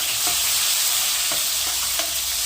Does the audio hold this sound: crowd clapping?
no